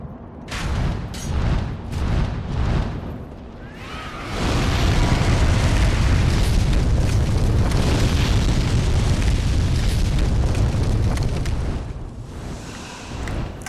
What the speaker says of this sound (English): he just doesn't breathe fire unless we're there